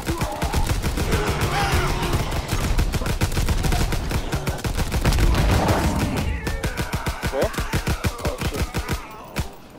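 Rapid, close gunfire in Call of Duty WW2 Zombies on the Mountaineer map: continuous automatic bursts in a dense, loud rhythm with overlapping shots throughout.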